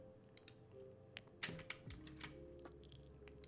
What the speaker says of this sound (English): I hit P on the keyboard for my pen tool.